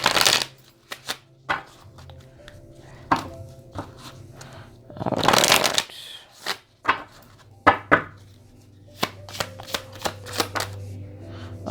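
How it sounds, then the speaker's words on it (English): A deck of cards being riffled and shuffled in several crisp bursts, with a brief spoken remark near the start and soft handling sounds between. "Let me just give this a little shuffle here."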